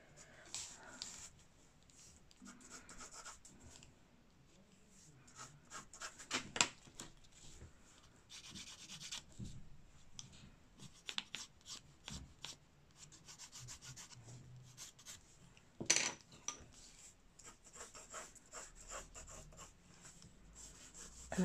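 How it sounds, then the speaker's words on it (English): Colour pencil shading on paper for an anatomy drawing, working square by square over a grid: a steady, quiet scratchy rubbing that continues for about twenty seconds in irregular strokes, close up with no voices. "I'm going to draw in the top part"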